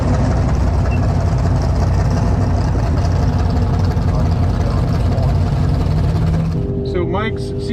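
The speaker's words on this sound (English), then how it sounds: "Fastest car we've seen make a pass is this Corvette behind us." Heavily modified Corvette C7 Z06 running E85 and making over 800 wheel horsepower idles at a drag strip, a loud steady low rumble that holds throughout before a higher whine and chirps come in near the end.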